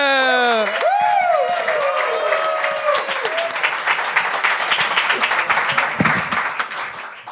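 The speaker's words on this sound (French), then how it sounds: "Un tonnerre d'applaudissements pour le prochain Assim!" Studio audience at a comedy show breaks into loud, dense applause that carries steadily through the whole stretch, with a voice talking briefly at the start before the clapping takes over.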